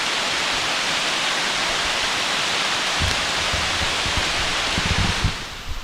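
Steady, heavy rain hisses without a break, with a few low thumps underneath near the end.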